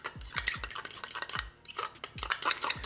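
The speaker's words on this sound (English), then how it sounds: "So I'm just gonna mix that together" Mayo, sriracha and sweet chili sauce being mixed in a small bowl, close clinking and scraping strokes of a utensil in an uneven rhythm, with a brief pause midway and no talk.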